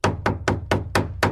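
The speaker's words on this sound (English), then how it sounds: "hammering" Hammer striking a hard surface six times in a steady, evenly spaced rhythm, each blow a sharp, ringing knock with a quick decay, close and clear with no voices.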